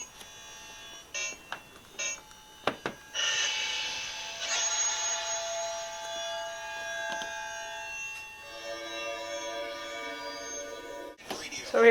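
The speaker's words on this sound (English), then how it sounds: "So here we are, driving in our usual evil way in Grand Theft Auto, using the controller." Grand Theft Auto 3 driving played with a controller on an Asus MeMO Pad Smart 10 tablet: game audio with sustained wailing siren-like tones, a few short bursts, and a muffled engine drone, at moderate level.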